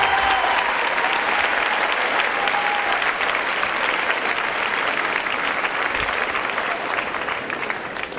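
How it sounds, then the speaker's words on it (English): Sustained applause from a large audience at a farewell ceremony, steady and dense throughout, filling the room at even loudness without a break. "So we need to give him a round of applause for that."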